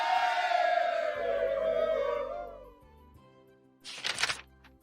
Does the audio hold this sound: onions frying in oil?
no